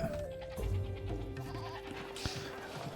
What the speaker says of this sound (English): Taking the goats.